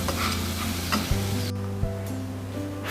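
Dry fruit mixture and roasted sesame stirred in a pan for laddu, with a steady scraping stir over soft sizzle and a few sharp knocks of the spoon against the pan.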